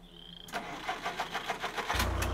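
A vehicle engine in the survival game Survive The Nights cranks with a rapid series of starter pulses, then catches into a steady low idle hum, close and fairly loud.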